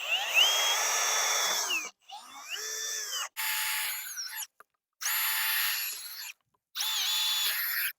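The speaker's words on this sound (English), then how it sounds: "So now let's cut this and drill holes." A power drill whines in several bursts with short pauses between, its pitch rising and dropping as it bites into a pipe, drilling holes, loud and close.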